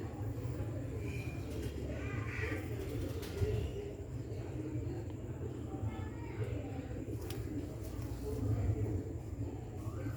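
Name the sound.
pigeons cooing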